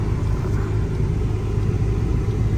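Interior ride in a Honda CRX: a continuous low engine and road rumble at a steady level, close and unbroken, with no talking.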